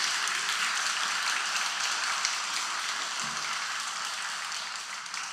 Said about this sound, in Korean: 박수 쳐도 좋습니다.